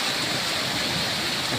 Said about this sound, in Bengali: ঘর থেকে বের হতেই বৃষ্টি